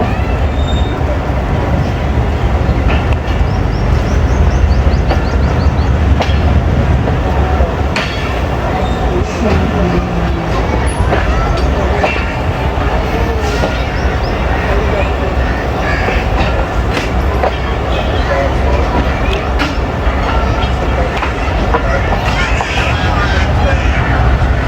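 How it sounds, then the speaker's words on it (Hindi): The Sandal Express passenger train pulls out of Charnali railway station, a loud, continuous rumble of railcars with clickety-clack wheel beats and occasional squeals, heard close from aboard, with people talking throughout. "चरनाली से निकल गई है ट्रेन जी।"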